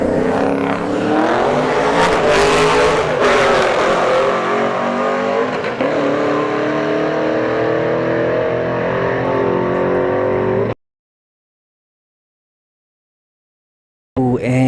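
A fifth-generation Chevrolet Camaro and an Audi S5 launch down a drag strip at a street drag event, loud engines screaming and climbing through gear changes close by, then the sound cuts out abruptly before resuming briefly at the end.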